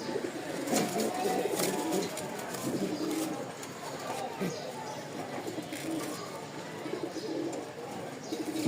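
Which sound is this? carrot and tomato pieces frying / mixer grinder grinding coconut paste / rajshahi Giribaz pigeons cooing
rajshahi Giribaz pigeons cooing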